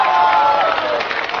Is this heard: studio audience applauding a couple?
yes